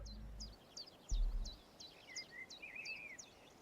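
Birds chirp in repeated short, bright calls over soft forest ambience in the railway game Story of Forest Rail, with a few longer warbling notes later and a brief low thump near the start.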